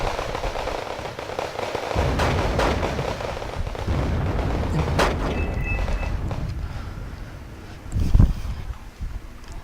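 T-72A tanks fire on Marines during a Wargame Red Dragon battle, heavy booms and crackling blasts layered over a continuous rumble of in-game combat, with one louder thump near the end.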